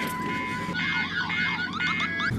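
A car alarm sounds in short repeating bursts of warbling, sweeping electronic tones, heard at moderate distance without talk.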